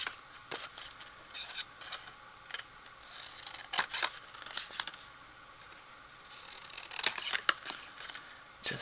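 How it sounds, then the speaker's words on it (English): Scissors snip and trim cardstock for a papercrafted 3D mug, quiet close crisp cuts and slices in irregular bursts with soft paper rustling between them. "Just give it a little slice with my scissors"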